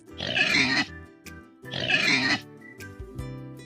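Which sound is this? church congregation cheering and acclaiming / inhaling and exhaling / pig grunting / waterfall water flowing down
pig grunting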